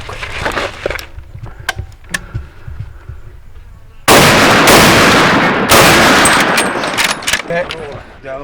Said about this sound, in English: We have to shoot it.